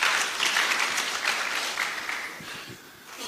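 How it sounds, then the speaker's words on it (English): An audience at a church general assembly plenary session claps steadily in a large hall, a dense, sustained round of applause that fades a little toward the end. "We can clap for them."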